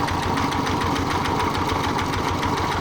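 A Kubota walking tractor engine runs steadily while hulling red coffee cherries in Laos, giving a close, continuous throbbing drone with an even pulse and no voices.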